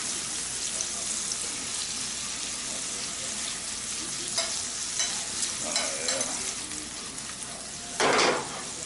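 Dove meat frying in a pan makes a steady, close sizzle that runs the whole time, with a louder burst near the end as the pieces are stirred or turned.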